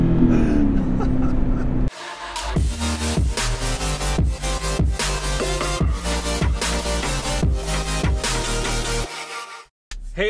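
A Volvo V70R drives and accelerates hard, its engine revving in loud, rhythmic surges through repeated gear pulls, close and dominant with no talk.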